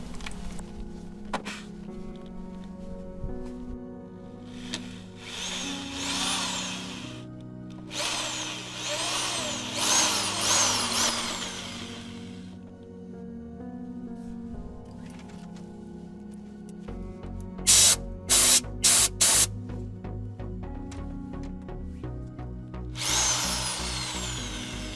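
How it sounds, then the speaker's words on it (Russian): A drill fitted with a 12 mm bit bores out the last of a hole during clutch slave cylinder replacement on a Chery Fora, running in long steady grinding bursts with pauses and a few sharp high squeals near the end, close and loud. "Далее я поставил 12 сверло и им уже последний раз досверлил это отверстие."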